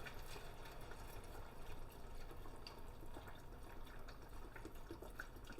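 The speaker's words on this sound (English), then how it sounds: "And now I'm going to start adding our chicken broth." Chicken broth pours into a soup pot of cabbage with a soft, continuous liquid splashing and trickling, quiet and close with faint drips, no voices.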